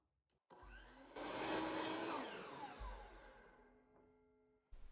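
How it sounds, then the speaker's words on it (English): A power saw cuts through a small square of scrap oak, a loud whining burst of about two seconds that fades as the blade runs down, with a short thump at the start and end. "let's grab a piece of thinner material and cut a 1½ by 1½ inch square"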